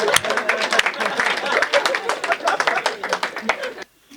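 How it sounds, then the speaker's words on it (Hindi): An audience at a Hindi poetry recital claps in brisk, close, sharp bursts with some chatter mixed in. The clapping cuts off abruptly just before the end. "तालियां बजा दो"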